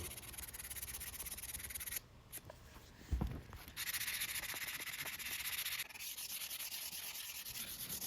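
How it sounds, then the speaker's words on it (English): Steady, rough scraping of sanding metal slide rails on a woodworker's bench face vise, close and continuous, briefly pausing and dropping in level before resuming at a constant rhythm. "I'm just going to sand it all the way up the grits through about 220"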